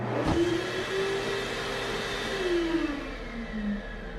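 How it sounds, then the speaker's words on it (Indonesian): A hand dryer runs in a restroom, a steady loud whirring drone with a shifting whine and a sharp thump near the start, nearby and alone. "terdengar suara pengering tangan yang sedang ngahyeng"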